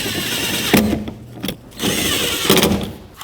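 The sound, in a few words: screws being driven back in on a Saturn Aura door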